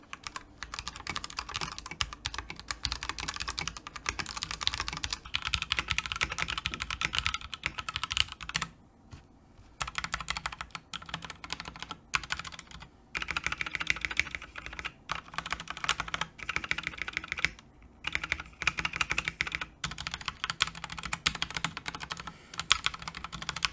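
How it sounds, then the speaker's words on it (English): Steady, fast typing on a Ducky One 2 Mini mechanical keyboard with soft linear Cherry MX Red or HyperX Red keystrokes, a few brief pauses between bursts, close up with no talking. "let me show you guys what the Cherry MX Reds sound like versus the HyperX Reds"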